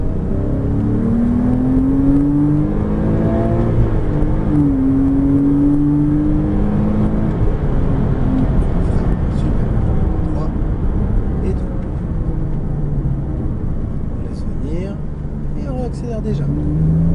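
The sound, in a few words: Porsche Cayman S accelerating at full throttle on circuit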